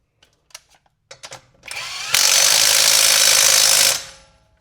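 A generic impact wrench loosens a lug nut: a few scattered clicks and taps, then a loud sustained rattling hammer burst lasting about two seconds that fades out, with no talk.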